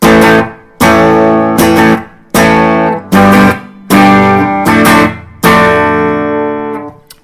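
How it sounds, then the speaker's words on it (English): Heavily distorted electric guitar strums a series of loud, sustained chords, each ringing out briefly before the next hit, with no talking. "he's putting on a ton of distortion there to make it sound like it does"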